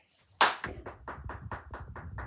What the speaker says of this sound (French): je vous demande d'applaudir nos candidats